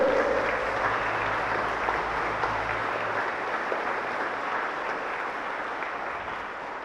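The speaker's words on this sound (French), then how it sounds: "Alors viens Hans, viens pour qu'on puisse t'applaudir et pour qu'on puisse te dire merci pour ce que tu as fait." A church congregation at a Saturday Mass applauds warmly, dense sustained clapping from a large crowd filling the space, steady and moderately loud, gradually tapering toward the end.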